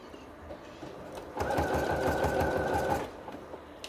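A sewing machine stitches a French seam on a cushion cover, its rapid needle chatter starting after a quiet moment and running steadily for about a second and a half before stopping.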